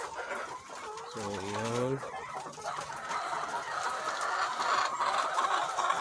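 Dekalb White layer hens at 22 weeks in a laying house cluck and squawk, one rising call standing out near the start over a steady flock murmur, while someone talks briefly.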